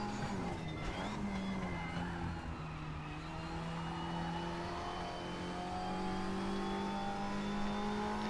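A front-wheel-drive Audi TT race car in a racing video game drones steadily, its engine note holding a sustained pitch with slight rises under throttle, loud and continuous throughout with occasional faint tyre scrub.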